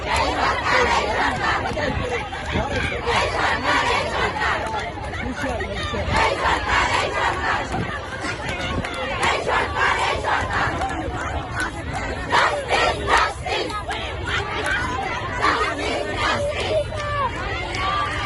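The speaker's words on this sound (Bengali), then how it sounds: "তাদের স্লোগান দেখার চেষ্টা করি।" Protesting teachers chant slogans in unison on a street at Shahbag, a loud crowd of voices rising and falling in rhythmic bursts with continuous hubbub underneath.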